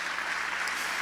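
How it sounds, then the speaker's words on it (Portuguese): A church congregation applauds in a brief, steady wash of dense clapping at moderate volume with no speech over it. "Aplauda Jesus."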